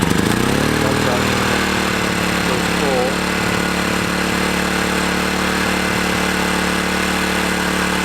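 A 30-year-old Honda EM500 portable generator cranks over and catches, then settles into a steady, loud running drone for several seconds with a slight wavering as it warms up.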